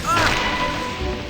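A quick magical spell impact from the Harry Potter Chamber of Secrets PS2 game, a short whooshing smash lasting about a second with a bright ringing tail, up close.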